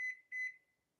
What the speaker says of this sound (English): Let me go set my timer for 5 minutes.